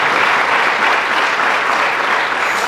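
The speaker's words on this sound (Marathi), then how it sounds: "यासाठी जोरदार टाळ्या झाल्या पाहिजे." Sustained, loud audience applause fills a college arts-club inauguration hall, steady and dense throughout without a break.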